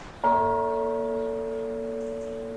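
A single church bell strike rings out, its clear tone holding and slowly fading over a quiet background.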